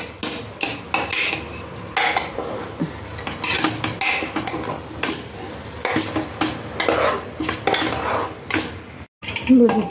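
A spoon stirs and mixes vegetables with potatoes in a metal cooking pot, loud close scraping and clanking in a busy, uneven rhythm over a faint sizzle, with a brief gap near the end.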